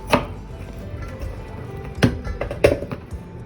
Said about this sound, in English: This one, it's a bit big, so I'm gonna cut it into half and cut it diagonally.